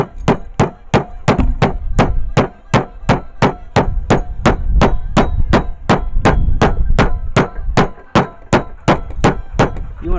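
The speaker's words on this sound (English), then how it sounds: "We're going to take our magic kitchen hammer here, and we're going to pound these things until they're fairly thin." A kitchen meat hammer pounds cutlets thin for Wiener schnitzel, striking in a fast, steady run of sharp, loud thwacks, about three per second, with no voices between the blows.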